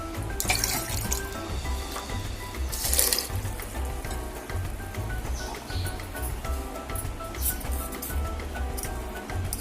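Water poured from a glass into a pressure cooker holding sprouted moth beans, a steady close splashing and trickling stream lasting throughout with a couple of louder gushes.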